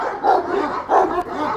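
A Kangal dog gives two loud, close barks about half a second apart, with rougher growly sound between them and no speech.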